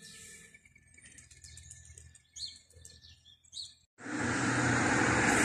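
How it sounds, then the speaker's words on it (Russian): Birds chirp and sing on a March spring morning in Gagra, Abkhazia, scattered bright tweets at moderate distance before a sudden wash of broadband noise takes over. "Все цветет, поют птички."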